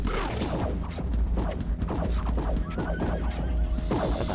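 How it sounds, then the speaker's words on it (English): A horse in a video game whinnies in a rapid, wavering call, loud and close over busy game sounds with thuds and clip-clop hits. "I definitely heard a horse."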